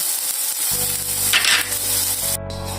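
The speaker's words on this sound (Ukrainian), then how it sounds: "хочу пожарити печінку" Steady sizzling and crackling of liver frying in oil in a hot pan, loud and close, with a brief stir partway through and the hiss continuing to the end.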